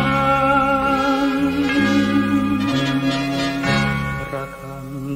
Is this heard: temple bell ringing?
yes